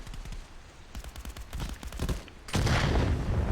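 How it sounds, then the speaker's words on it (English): Gunfire in the VR shooter game Contractors comes as rapid bursts of automatic shots, then a dense, loud continuous barrage near the end, with no talk over it. "But Lurf was able to shoot him out the window"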